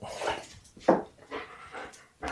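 A female dog whimpers and whines in short, close bursts, several plaintive cries spaced unevenly across a few seconds, with no talk.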